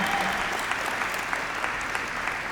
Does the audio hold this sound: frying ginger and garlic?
no